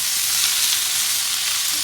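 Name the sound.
Philly cheesesteak ingredients sizzling in a hot pan on grill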